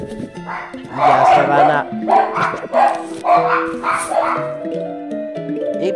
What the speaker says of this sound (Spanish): el micrófono me va a grabar los sonidos también de mis perros